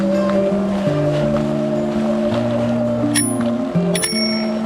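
A bicycle bell on a 16-inch-wheel folding bike rings in several bright, clear dings over steady outdoor background noise, with tones sustaining between strikes.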